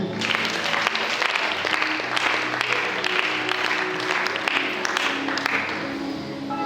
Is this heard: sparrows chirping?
no